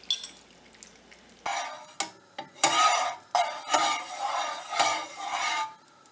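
Three beaten eggs go into a pan for a cheese omelette, with a run of clattering bursts of bowl and pan contact and scraping, loud and close with no talk.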